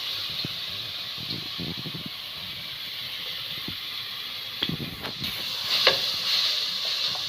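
Steady hiss and sizzle of grated carrot frying in hot ghee in a pan for payasam, with a few scraping stirs partway through, close and continuous, no talk.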